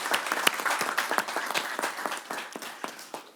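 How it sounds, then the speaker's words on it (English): Clapping from a board meeting audience, with many individual hand claps forming an irregular, moderately loud burst that continues throughout and tapers slightly near the end. "I'm going to clap again."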